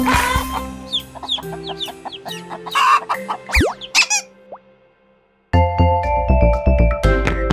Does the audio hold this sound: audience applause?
no